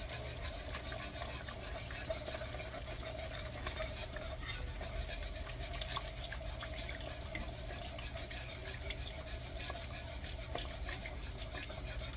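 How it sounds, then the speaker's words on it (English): Roast beef juice being poured slowly into a pan while stirring, a steady liquid trickle and patter that runs throughout with a soft continuous wash of kitchen noise. "I am going to slowly add this juice from the roast, a little at a time"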